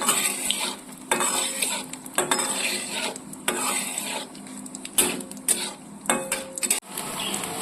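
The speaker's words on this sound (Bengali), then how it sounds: "ফোড়নগুলো নাড়াচাড়া করে নিচ্ছি।" Whole spices tossed in a pan for a prawn curry, with a metal spatula scraping and clinking in uneven strokes over a soft background sizzle, close and fairly quiet.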